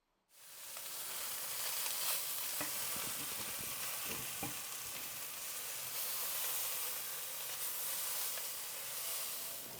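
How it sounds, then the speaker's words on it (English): Halibut seasoned with salt and pepper sears in a buttered pan, giving a steady, loud sizzle and hiss that holds evenly throughout after a sudden start, with faint crackles now and then. "place it on the pan that has been buttered to sear"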